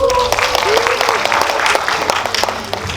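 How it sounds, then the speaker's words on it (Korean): Audience applause at a post-screening talk for the film Perfect Stranger at a Megabox Coex cinema, a brisk wash of clapping with scattered louder claps and some voices mixed in. "여러분 큰 박수 주시면 이재규 감독님과 윤경호 배우님 자리하시겠습니다."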